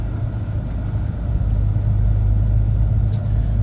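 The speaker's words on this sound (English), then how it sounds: "Mindful, this car's coming overtaking us." A car overtakes an HGV on the B5305 in a 40 zone, its passing rumble swelling over the truck's loud, steady engine drone inside the cab.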